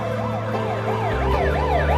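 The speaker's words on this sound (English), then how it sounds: "Here comes the ambulance" An ambulance siren wailing in rising and falling sweeps, loud and drawing nearer over a low engine rumble, with no voices over it.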